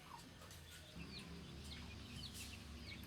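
Chickens on a backyard farm cluck softly and intermittently, faint and somewhat distant over a steady low background hum.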